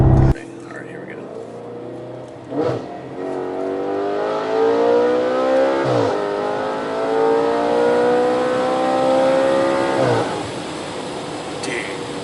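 A 2013 Audi RS5 accelerating, its engine revving up in long rising pulls through several gears, loud and close, with brief breaks between shifts.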